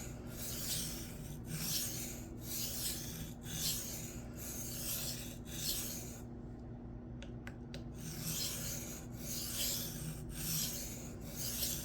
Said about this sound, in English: it's so nice sharpening on a freshly flattened stone